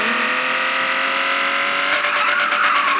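A Porsche 911 drifts in an online racing video game, its engine droning steadily with harmonic whine while tires squeal and skid, rising in intensity toward the end, loud and continuous with no talk.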